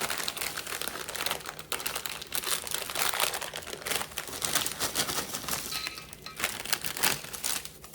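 Small plastic snack bags of pretzels crinkle and crackle steadily up close, a dense continuous rustle of handling and tearing with no talking.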